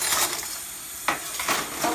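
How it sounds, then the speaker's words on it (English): Metal silverware dropped into a kitchen sink during hand dish washing, with several clinking, rattling impacts over running background noise, close and moderately loud. "you can go ahead and start putting the silverware in"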